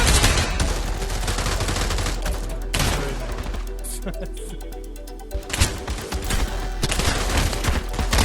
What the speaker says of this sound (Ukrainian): О, кулемет!